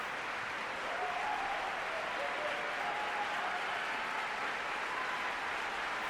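At the close of a live performance, a crowd applauds in a steady, fairly distant wash of clapping that holds evenly throughout at modest volume.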